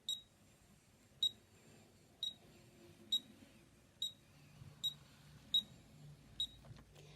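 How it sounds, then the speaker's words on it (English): A COLOP e-mark handheld printer, printing on ribbon, gives eight short, high beeps at a steady rhythm of about one per second, faint but clear above quiet handling noise. "Listen to the beeps."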